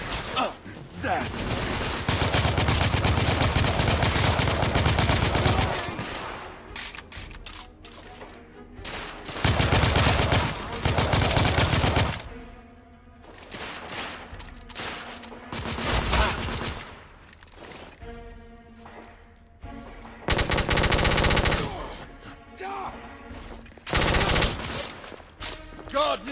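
Heavy sustained gunfire in The Order 1886, long loud bursts of automatic fire alternating with shorter volleys, with brief voices between.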